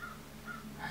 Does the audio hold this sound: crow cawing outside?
yes